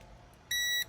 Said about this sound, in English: Okay, stop the alarm